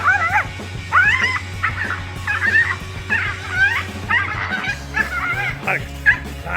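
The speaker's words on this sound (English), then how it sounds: "A tiny dog quickly regretted messing with the tegu lizard when it suddenly had enough of its annoying barking" A tiny dog barks and yips repeatedly in sharp, high bursts while facing a tegu lizard, with whimpering notes between barks and a steady low hum underneath throughout.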